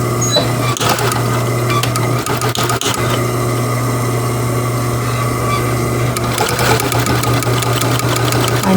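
A sewing machine stitching a knit T-shirt mask with elastic, running as a steady, continuous mechanical whir with a faint rapid needle rhythm and occasional clicks, close and fairly loud.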